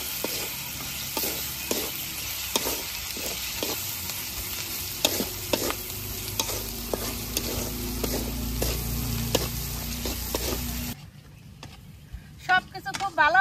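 Chicken singara filling with spices being stirred and fried in a pan, a continuous sizzle with repeated scraping strokes, then the frying noise drops away near the end as people talk.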